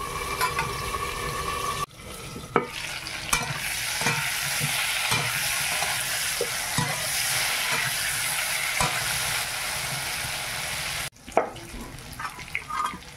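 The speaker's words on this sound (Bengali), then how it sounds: "এবার ফুলকপি আর আলুটা ভেজে নেব।" Potatoes and cauliflower fry in a pan with a splash of water, a steady loud sizzle and hiss with occasional stirring clatter, broken by two brief pauses.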